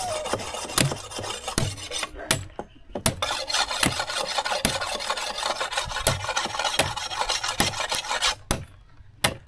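A hand saw cuts through wood in a series of rhythmic rasping strokes, close and fairly loud, with brief pauses between bursts.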